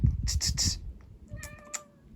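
A cat meows several times in quick succession near the camera, short bright calls followed by a couple of fainter thinner meows, heard outdoors among the ancient stone colonnades of Perge in Turkey.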